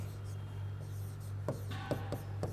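Chalk or marker scratches across a board in a math class, giving a few short scraping strokes close by under a steady low hum and quiet room noise.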